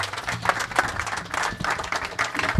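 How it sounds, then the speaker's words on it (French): Church congregation applauding and cheering, dense steady clapping with crowd noise throughout, loud and close, no distinct speech. "Tu peux encore bien acclamer."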